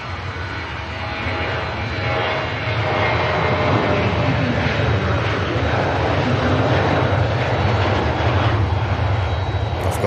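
A Jet2 airliner departing Manchester Airport for Gran Canaria roars on its takeoff run, a loud broadband engine rumble building over the first seconds and then holding steady and powerful.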